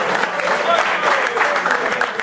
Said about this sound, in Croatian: Ajmo aplauz, ja? Malo prosim.